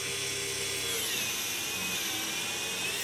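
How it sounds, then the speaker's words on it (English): Metal lathe drilling into a Zdrive coupling, the drill fed by hand from the carriage; a steady high whine with shifting pitch runs continuously and close, without speech. "I'm drilling in using the handle on the cross, on the carriageway."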